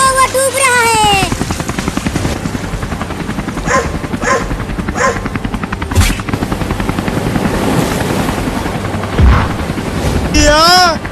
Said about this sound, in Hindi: तुम जल्दी से हेलीकॉप्टर लेकर जाओ।